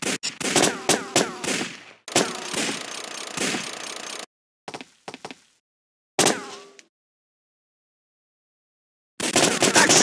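Time Crisis arcade shooter gunfire, rapid bursts of shots in loud clusters broken by sudden silent gaps, resuming strongly at the end.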